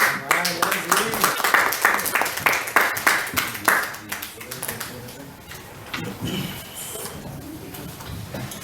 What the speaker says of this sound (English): Round of applause for Leslie.